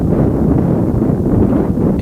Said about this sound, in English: very windy outside. 30 mile per hour winds.